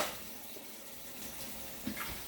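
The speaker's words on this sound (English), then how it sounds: "basically rinse the beans, get a strainer and rinse it" Tap water running steadily into a strainer of black beans in a home kitchen, a continuous close hiss and splash at moderate level with a small clatter near the end.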